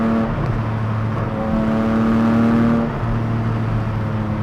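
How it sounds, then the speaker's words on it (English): A Porsche 718 GTS 4.0 with a manual gearbox drives along, its engine droning with a steady tone that rises and falls gently in pitch, heard from inside the cabin and uninterrupted by talk. "Listen to that engine noise."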